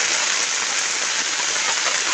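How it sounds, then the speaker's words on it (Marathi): Heavy monsoon rain in Konkan pours steadily in a dense, constant hiss, loud and close, with no voices. "एवढ्या मोठ्या प्रमाणामध्ये पाऊस पडतोय"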